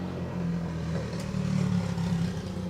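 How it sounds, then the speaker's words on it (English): A loud motorbike passes by outside, its low engine drone swelling steadily over a couple of seconds and holding near and heavy throughout, with no voices over it. "we're going to have a very loud motorbike go past in a moment."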